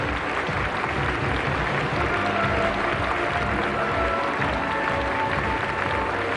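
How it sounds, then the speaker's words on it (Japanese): Sustained applause from the audience in a large hall fills the room at the 1985 Miss International crowning in Tokyo. It is loud, dense and steady for the whole stretch. "この会場をお越しいただいたお客様からの拍手"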